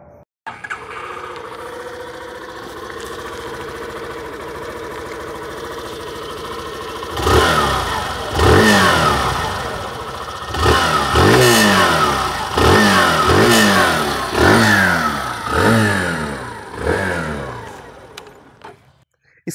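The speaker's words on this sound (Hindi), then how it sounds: "मैं आप लोग को एक बार उसकी आवाज़ सुनाना चाहूँगा ये मैं बाइक एक बार ऑन कर दूँ" A Hero Glamour Canvas Edition 2022 motorcycle engine starts after a quiet idle hum, then revs repeatedly in sharp bursts, loud and close, settling between each rev.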